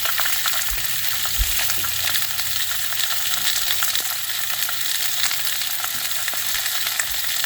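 A bone-in pork chop, about half an inch thick, sizzles on a grill with a loud, even hiss and light crackle throughout, plus a few soft thumps and no talking.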